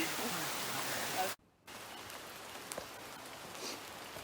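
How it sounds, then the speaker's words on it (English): Rain pours steadily in a Hawaiian rainforest at Manoa Falls as a dense, loud hiss that cuts out briefly, then continues more softly with scattered drops. "The rain clearly ain't going nowhere"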